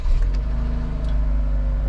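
A brand-new, zero-kilometre Jeep at an auction idles after being started, a steady low engine hum with a faint rumble, close and constant.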